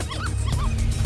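Puppies in the Ruff Trigger video game give short high yips and whimpering cries, two or three rising squeals over a steady low game-music and noise bed.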